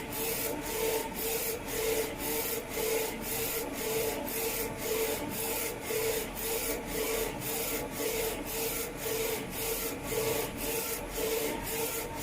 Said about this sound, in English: once the printer starts printing